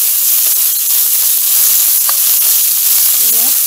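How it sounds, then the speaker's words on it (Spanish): Washed rice browns in a pan for arroz con repollo, giving a loud, steady, hissing sizzle close by with a few faint stirring scrapes. "Les voy a ir enseñando cómo lo estoy dejando dorar ahorita, que se dore muy bien."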